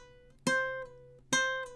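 Ukulele notes sounded by pull-offs, a finger lifting off the string, giving two bright, ringing attacks about a second apart, close and clear, each sustaining with faint extra string sounds in between.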